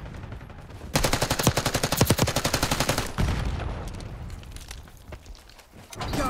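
Rapid automatic gunfire in the video game Call of Duty Black Ops 6: a loud, close stream of repeated shots for about two seconds, then a heavier blast and fading, scattered firing over game ambience.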